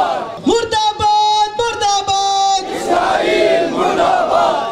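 Crowd at an evening prayer-lights gathering in Karachi chanting slogans against Israel and America, loud unified shouted call-and-response with strong sustained voiced tones, rising into a broader roar of many voices.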